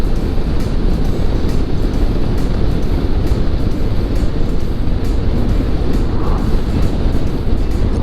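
A touring motorcycle accelerates in sixth gear from 50 mph, heard as a loud, steady, dense roar of engine and wind rushing past, with no talk.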